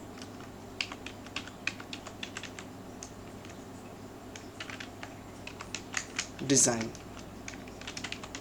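Fingers tap out a file name on a computer keyboard in rapid, uneven bursts of clicks with a brief louder clatter midway, close and fairly quiet, while a voice speaks briefly.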